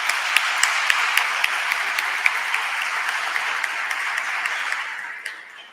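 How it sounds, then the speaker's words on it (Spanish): An audience applauds at the final of an Andalusian school debating contest. Brisk, crowded clapping with a few sharp individual claps carries on for several seconds, then fades away at the end. "Otro aplauso, por favor."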